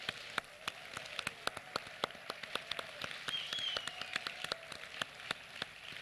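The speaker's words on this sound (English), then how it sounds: "Je vous demanderai de faire un tonnerre d'applaudissements pour les étudiants qui viennent de monter sur l'estrade" Audience clapping at a graduation ceremony as students step onto the stage, a steady patter of many hands with sharper individual claps standing out, heard from some distance in a large hall.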